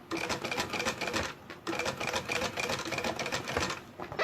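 A sewing machine stitches a sublimation-printed bag in fast, steady rattling bursts, close and loud, pausing briefly in the middle before running on again.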